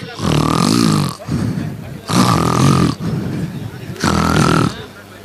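A person imitates a tiger with three rough, growling roars, each about a second long, separated by breathy pauses.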